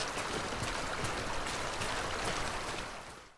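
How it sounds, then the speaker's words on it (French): Footsteps squelch and splash through mud in the video game Death Stranding, a continuous wet, sloshing texture with regular soft step impacts, close and even, fading briefly at the end. "l'éclaboussure de la boue,"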